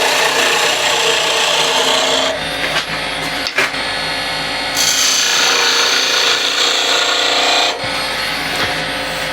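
A woodturning tool scrapes a spinning red resin gum blank on a lathe, giving a loud, continuous rasping hiss that cuts out briefly between passes and then resumes.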